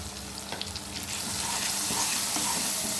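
Turmeric, chili powder and coriander powder fry and get stirred in hot oil in a pan, giving a steady close sizzle with scraping stir noises that grows louder and denser.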